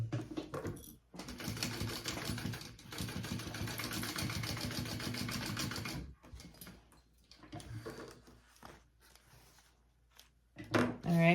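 A sewing machine bastes fabric for a sling bag, running in a steady, fairly loud whirring burst for several seconds before stopping, followed by quieter handling sounds and a short louder noise at the end.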